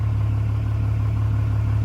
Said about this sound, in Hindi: मैं स्टार्ट कर दूं ताकि जो है वो गाड़ी थोड़ी सी गर्म हो जाए